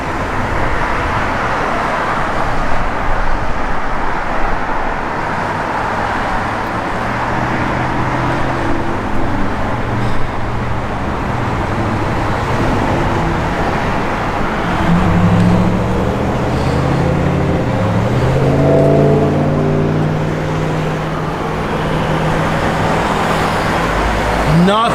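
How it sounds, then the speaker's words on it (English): A 1963 Chevrolet Corvette with side exhaust rumbles steadily and loudly, with a low engine drone and a rising rev partway through over broad road noise. "Nothing like the side exhaust on a Corvette"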